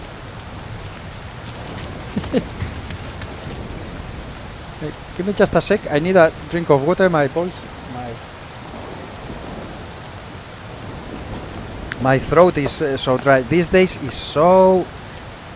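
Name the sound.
rain in a video game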